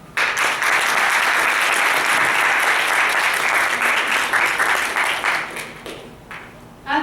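An audience applauds speech contest speakers loudly and steadily for several seconds, then the clapping thins out and fades before a brief burst at the end.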